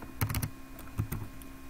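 Keys on a computer keyboard clack close by in two short bursts, a quick run of three or four presses and then a few more scattered taps, with no one talking.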